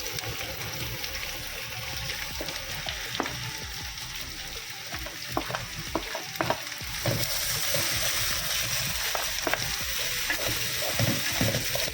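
Green chillies sizzle and crackle in hot oil in a pan while being stirred, with steady frying hiss and scattered scraping stirs, close and loud, no talking.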